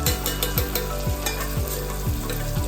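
Spices, turmeric and red chili powder sizzling in hot oil for homemade khichadi, with a steady frying hiss and regular scraping strokes of stirring about every half second, close and loud, no talk.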